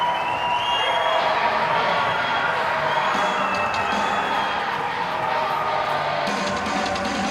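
A high school hockey crowd at Darien erupts after a goal in a semifinal, a dense sustained roar of cheering, whoops and shouting that fills the rink without letup.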